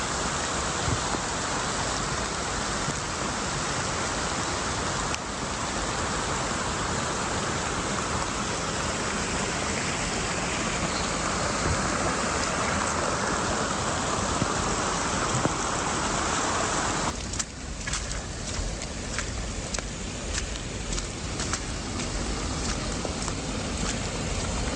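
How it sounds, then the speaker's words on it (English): Waterfalls and streams pour through a forest along the Scenic River Trail in Wayne National Forest, Ohio. A steady, dense rush of water runs unbroken throughout, with no voices. "It's freaking waterfalls literally everywhere."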